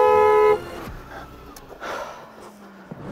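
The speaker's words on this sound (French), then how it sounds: "Tu peux klaxonner." A single short car horn honk blares loudly at the start, followed by quieter shuffling and background noise.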